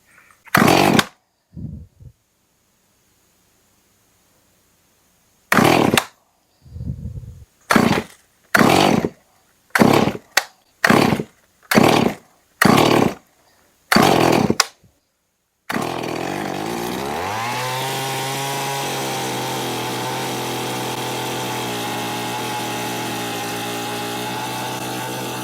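A Stihl MS311 chainsaw, rebuilt with mild porting and a muffler mod, starts after a run of loud pull-cord tugs and short sputters, then idles and revs up into a steady, high buzzing whine.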